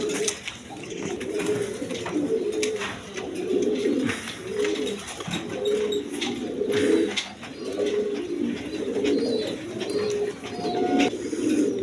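Black Jacobin pigeons coo steadily, a rhythmic string of soft rolling calls repeating every second or so, fairly close, over light background noise.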